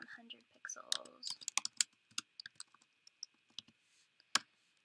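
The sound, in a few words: typing on a computer keyboard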